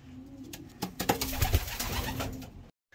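Racing pigeons coo in a loft, soft throaty rolling calls overlapping with wing flutters and shuffling, close by and moderately loud for a few seconds, no talk.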